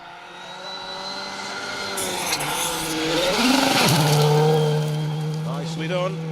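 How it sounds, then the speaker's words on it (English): Rally car approaching on a forest stage of the Woodpecker Rally 2024, its engine rising from a distance and growing louder as it nears, with revs dropping and climbing through gear changes. A commentator talks throughout. "We can hear, and in fact we can see, the first competitor on stage coming towards us, Elliot Payne."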